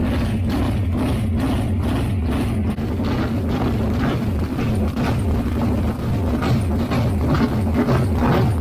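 An engine revved up and held at high RPM for a timing check, giving a loud, steady, rumbling drone with a wavering pulse and no talking over it.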